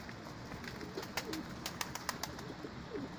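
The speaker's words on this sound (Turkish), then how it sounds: "İnşallah bunları uçacağız, seyredeceğiz." Pigeons coo softly in a few faint, distant bursts over quiet background noise.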